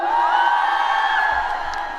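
A concert crowd at a civic day celebration performance cheers, whoops and shouts in one sustained, loud roar of many voices for about two seconds.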